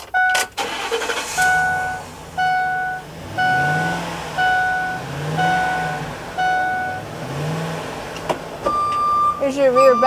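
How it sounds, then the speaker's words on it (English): The rear backup beeper on a 2006 Ford E250 cargo van sounds as a steady series of evenly spaced electronic beeps, about one per second, over a low vehicle hum. "Here's your rear backup beeper."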